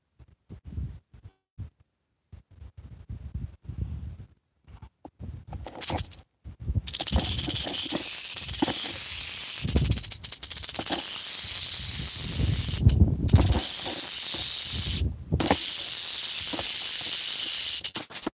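A rattlesnake, a roughly six-year-old snake found on a mining claim, buzzes with a loud, sustained rattle-hiss close by, broken by a couple of short pauses, after a quieter stretch of faint rustling.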